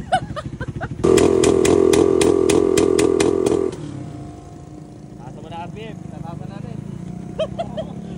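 A motorcycle engine with a stock pipe, set up for backfire tuning, sits at a loud, steady high-revving drone for several seconds and then drops back to a lower, rougher idle, while people talk nearby.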